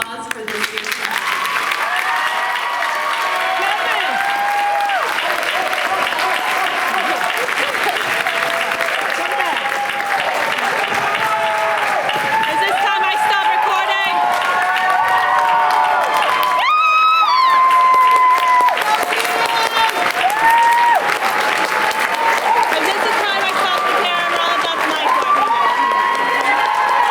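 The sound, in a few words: audience applause at awards ceremony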